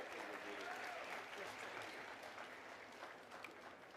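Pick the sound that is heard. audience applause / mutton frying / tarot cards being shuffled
audience applause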